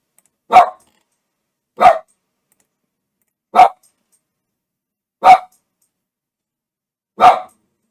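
A single dog barks five times, each bark sharp and isolated, spaced roughly every one and a half to two seconds against complete silence.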